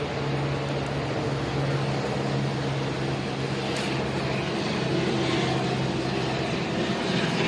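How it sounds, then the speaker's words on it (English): Steady rumbling drone of a helicopter overhead, a continuous broad engine roar with a low hum, no speech. "That is a black and white helicopter."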